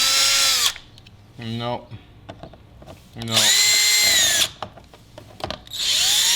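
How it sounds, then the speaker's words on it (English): Power drill boring into the bumper of a BMW G30 during a pedal shifter install, loud whining bursts in three separate runs with pauses between, one spoken word in the gaps. "I hate when they drill into the bumper."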